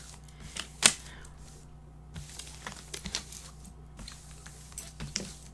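2019 Prizm baseball cards are shuffled by hand before a box break, with soft crisp riffles and taps in short bursts, one sharper snap early on, and no talk over it.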